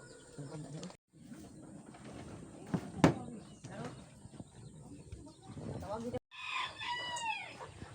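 A rooster crows once near the end, loud and fairly close, after a stretch of outdoor rustling and faint voices talking.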